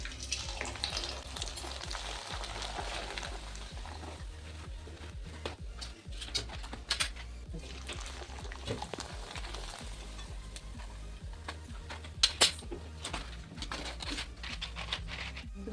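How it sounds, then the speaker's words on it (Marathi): Homemade rice papad fries in hot oil, making a soft continuous sizzle and bubbling with occasional crackles and a few sharper louder bursts, moderately faint and without speech. "मी आता यांना तळून दाखवणार आहे तर तळून बघूया आपण आपलं तेल तापलेलं आहे"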